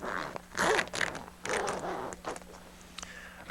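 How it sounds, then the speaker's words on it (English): A zipper on a Jeep Wrangler soft-top side window is pulled open in a few short, raspy strokes with brief pauses between, close and moderately quiet. "Unzip the window about halfway"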